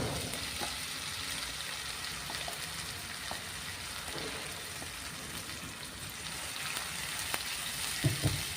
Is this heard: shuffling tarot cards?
no